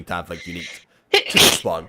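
A sharp sneeze bursts out after a short pause, set between stretches of casual conversation as people talk before and after it.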